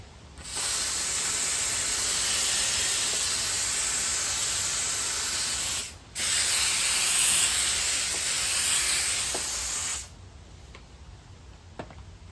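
A handheld Harbor Freight steam cleaner hisses loudly and continuously on an SUV's exterior in two long bursts separated by a brief pause, then falls quiet with a few faint clicks.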